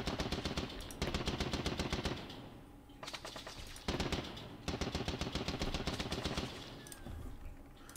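Machine guns fire in rapid, rattling bursts in a First World War strategy video game, several long volleys separated by brief pauses, loud and alone.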